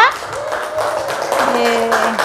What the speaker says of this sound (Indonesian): Silakan tepuk tangan dulu untuk Ana dan Naura.